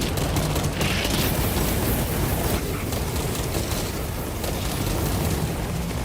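A frag grenade explosion and gunfire in Warhammer 40k: Space Marine 2, heard as a dense, continuous roar of blasts and rapid fire that stays loud for the whole stretch, with almost no speech.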